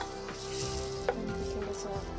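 Finely chopped tomatoes and tomato paste go into hot oil for stuffed brinjal and set off a soft, even sizzle with faint stirring and one brief clink near the middle.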